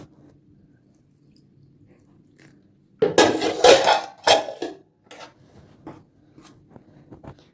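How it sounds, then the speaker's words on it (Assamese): Water being stirred into pitha batter in a bowl beside a tawa of oil: after a quiet stretch comes a short burst of loud wet stirring and clinking, then softer, scattered scraping. "মই এতিয়া পানী দি অলপ গুলি লওঁ"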